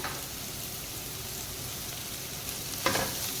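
Onions fry in a pan for gobi manchurian, giving an even, close hissing sizzle that stays steady throughout, with a brief stirring scrape near the end.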